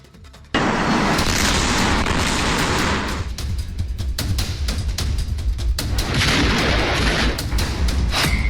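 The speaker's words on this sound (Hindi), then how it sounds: "मौत का धमाका, कांप उठा इलाका।" A sudden loud factory explosion in Harda breaks out after a quiet moment, followed by sustained roaring rumble and crackling bursts that continue throughout.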